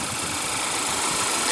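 A 2014 Chevrolet Malibu's 2.5-liter four-cylinder Ecotec engine idles steadily, a constant close hum with faint vibration and no voices.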